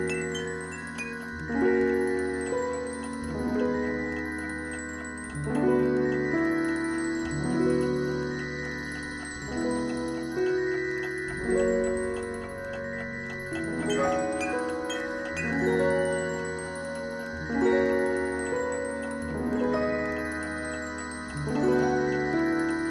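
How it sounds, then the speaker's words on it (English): Game music from A Hat in Time playing on entering the timepiece bubble, a looping melodic tune with ticking clock-like chimes and tinkling accents, steady and clear with no talking. "let's just take a moment to appreciate how awesome the music is when you enter the timepiece bubble"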